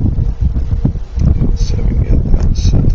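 Steady low rumbling wind buffeting a microphone, loud and continuous throughout with gusty fluctuations.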